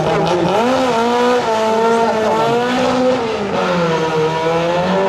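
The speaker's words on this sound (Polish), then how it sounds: "wjechał na trasie na samochodzie Peugeot 106" Peugeot 106 rally car on a stage of a rally event, engine loud and close, revs rising and falling through gear changes without a break, with no talk over it.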